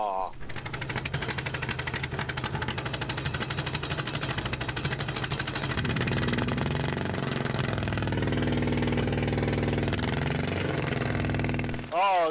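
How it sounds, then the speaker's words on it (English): Pony motor on a Caterpillar D8 dozer running steadily, a continuous mid-pitched engine chug that rises somewhat in the second half, with people talking over it. "this pony motor starts way better than our other one"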